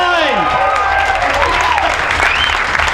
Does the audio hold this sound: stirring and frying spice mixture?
no